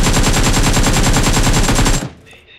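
Rapid automatic gunfire in the battle royale mobile game BGMI, a loud continuous burst of fast evenly spaced shots lasting about two seconds before cutting off abruptly.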